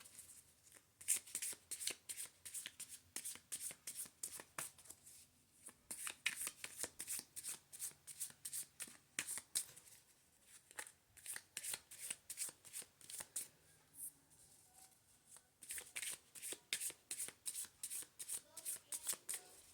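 Tarot cards shuffled over and over until some drop out, a close, quiet, rhythmic riffling in repeated bursts with short pauses between them, with faint talk underneath.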